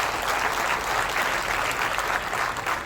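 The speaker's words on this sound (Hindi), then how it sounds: "सभागार से निवेदन है कि जोरदार तालियों से उन आयुर्वेदिक चिकित्सकों का सम्मान करें" A hall audience at a farewell ceremony gives loud, sustained applause for Ayurvedic doctors, dense clapping that holds steady from start to finish.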